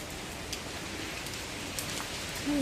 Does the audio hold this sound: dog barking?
no